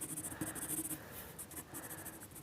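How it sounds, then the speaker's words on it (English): A 2B pencil sketching on paper, laid down as a continuous series of scratchy strokes with varying pressure, close up and quiet, with no voices. "This is a 2B pencil, I think."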